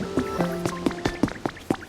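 A little stream of water in the Pokémon Pokopia video game, heard as a quick steady series of bubbly plinking drips, about eight droplet-like notes in under two seconds, close and clear.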